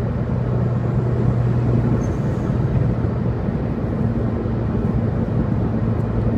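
A Toyota Yaris with a CVT gearbox and AZC turbo setup idles smoothly, a steady, close engine hum running unbroken and even throughout, with no revving or talk.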